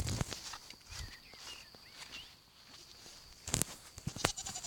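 A person imitates a goat's bleat while walking outdoors in a village forest, giving faint wavering calls among quiet footsteps and rustling.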